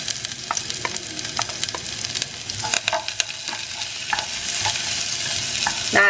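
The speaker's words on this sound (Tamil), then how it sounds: "இந்த ஸ்டேஜில் நான் பச்சை மிளகா, அப்புறம் வெங்காயம், கருவேப்பிலை இதெல்லாம் போட்டுக்கிறேன்." Green chillies, onion and curry leaves fry in hot oil for a South Indian tempering, a steady crackling sizzle with scattered stirring scrapes and pops, close and without talk.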